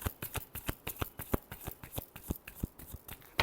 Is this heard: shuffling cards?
yes